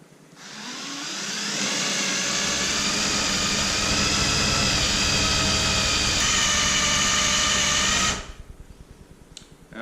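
A spinning wheel tool grinds adhesive off the inside of a Ford Bronco door, running as a loud, steady high-pitched whir for about eight seconds before winding down.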